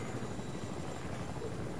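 Helicopter in a Fortnite-style battle royale video game, a steady low rotor drone and engine hum running continuously and fairly close, with no voices over it.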